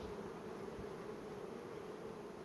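Dense, steady hum of honeybees at a hive colony, a continuous close buzzing drone that holds evenly throughout with no voices.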